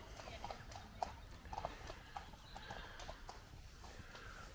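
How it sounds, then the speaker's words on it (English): Horses carrying two riders on a ride out, hooves clip-clopping in an uneven walking rhythm, moderately close, over steady outdoor background noise with a faint whinny-like call. "Two women over there on horses, having a nice ride out."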